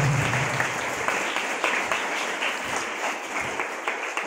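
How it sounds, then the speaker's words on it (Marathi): A crowd applauds with steady, dense clapping, fairly loud and continuous, with no talking over it. "जोरदार टाळ्या झाल्या पाहिजेत आपल्या पाहुण्यांसाठी."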